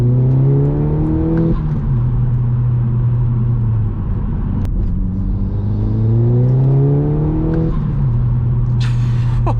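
An Audi S3 rated at 300 bhp pulls hard on a night drive, engine note climbing steadily through the revs, then dropping with each gear change before rising again, loud and continuous from inside the cabin.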